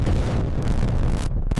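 A deep, sustained explosive rumble from a nuclear bomb blast, loud and dense in the low end, rolling on for over a second before breaking into a few ragged bursts as it fades.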